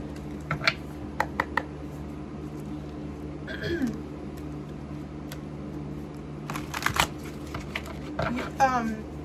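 Tarot cards are handled and shuffled in a quiet room, with scattered soft clicks, slaps and riffling bursts arriving in irregular clusters close by, and a brief murmur of voice in between.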